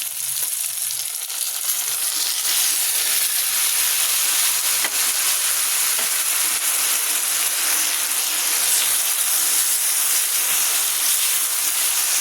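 Rice hits a hot pan for a quick vegetarian dish, setting off a loud, steady broadband sizzle with hissing steam that holds evenly for the whole stretch, close and unbroken, with no talking.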